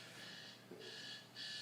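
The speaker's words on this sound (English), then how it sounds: "That was the alarm clock that you used to keep next to the bed alarm." A phone plays a classic alarm clock ringtone, faint repeating bursts of electronic beeping with brief gaps between them.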